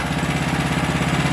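A small MXR212 big-block motorcycle engine running on its first start, a steady close, loud rumbling throb with a regular pulsing beat throughout.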